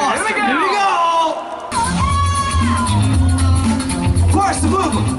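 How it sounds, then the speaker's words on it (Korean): A crowd whooping, cheering and clapping at a 2018 b-boy breakdance battle in Bucheon, loud and steady beneath an MC's amplified talk. "박수 치시면서 함성 질러주시면 되겠습니다"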